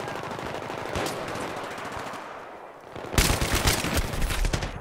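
An M60E4 machine gun fires in Battlefield 3 in long, rapid automatic bursts, loud and close, with a short lull before a heavier, denser stretch of gunfire.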